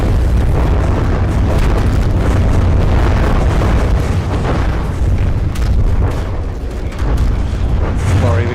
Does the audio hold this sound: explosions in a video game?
yes